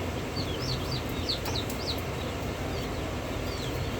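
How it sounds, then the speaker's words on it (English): A backyard chicken on a homestead gives short, high, chirpy calls in scattered bursts, fairly faint over a constant background hiss. "Why does it sound like a chicken to me?"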